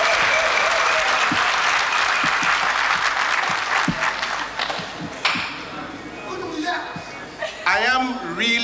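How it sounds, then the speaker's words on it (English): Dense applause from an audience at a Ghana Football Association elections gathering fills the room loudly, then thins out and fades as voices start talking over the tail end. "Can we clap for them, please?"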